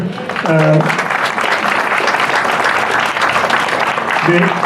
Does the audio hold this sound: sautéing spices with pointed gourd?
no